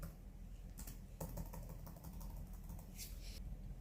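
Typing on a computer keyboard while entering a new patient's details into clinic management software, a quick irregular run of close, light key clicks with no voices.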